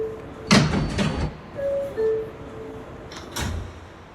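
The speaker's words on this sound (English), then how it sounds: "Stand clear of the closing doors," R142A subway car doors on a New York 1 train slide shut with a couple of thuds and clunks, a two-tone chime sounding in between, against a low hum of the train.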